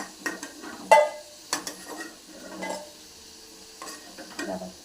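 Food frying in hot oil in a wok, with a spatula scraping and clinking against the metal in irregular bursts over a low, steady sizzle close by.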